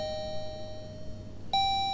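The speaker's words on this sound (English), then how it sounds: "We'll test the doorbell." A keypad-controlled doorbell rings once, a clear electronic chime that starts late and holds a bright steady tone to the end, after quiet background hum.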